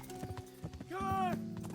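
Horse hooves clip-clop at a slow walk in the medieval game Kingdom Come: Deliverance, followed by a short whinny over background music.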